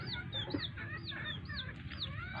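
Chickens cluck at a farm, a series of short repeated clucks and soft calls from several birds nearby over low steady background noise.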